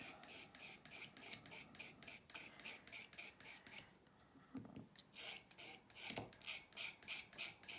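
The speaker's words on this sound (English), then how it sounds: "just using the spatula end, I'm going to take the pastels and I'm just going to scrape off some of this color here" The end of a spatula scrapes pastel color off a pastel stick in rapid, rhythmic rasping strokes, close and quiet, pausing briefly midway before resuming.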